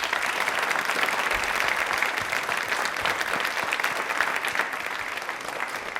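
Sustained audience applause at a Hindi-language quiz event, dense steady clapping from a large crowd that stays loud and even throughout.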